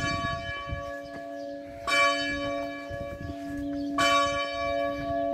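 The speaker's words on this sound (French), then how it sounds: "Alors ce que vous entendez, c'est l'église Saint-Gilles à Uskla-du-Bosc." Church bells of the Saint-Gilles church ring outdoors, heard from the hills above the village at nine o'clock. The tolling is sustained, with a fresh loud strike near the start and another later on.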